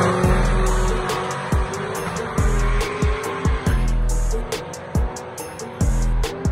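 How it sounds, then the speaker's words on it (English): A no-prep drag race car launches hard on hard tires and spins its tires out of the hole, loud engine roar broken by repeated sharp bursts and tire squeal, close and powerful throughout. "he gave it a little too much too quickly and spun out of the hole, while Jacob made a clean A to B pass"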